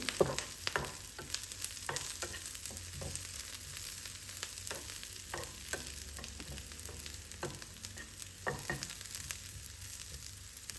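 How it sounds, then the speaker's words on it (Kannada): Green chillies fry in a pan for a prawn curry, giving a faint, steady sizzle broken by scattered clicks and scrapes as they are stirred. "ಹಸಿಮೆಣಸಿನ್ಕಾಯಿ ಸ್ವಲ್ಪ ಫ್ರೈ ಆಗಲಿ"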